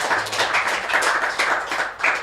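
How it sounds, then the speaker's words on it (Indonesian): An audience in a talk show about school counselling claps for a guest, a brief, lively burst of many hands with a slightly uneven rhythm, close and fairly loud. "tepuk tangan luar biasa untuk Bu Girinda"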